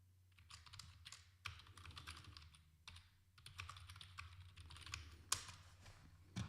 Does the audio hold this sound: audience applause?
no